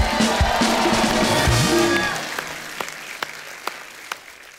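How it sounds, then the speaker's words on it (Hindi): Studio audience on an Indian comedy talk show breaks into loud, dense applause with some whoops, then it thins out after a couple of seconds into scattered claps that fade away. "जोरदार तालियां हो जाए एक बार अमित जी के लिए।"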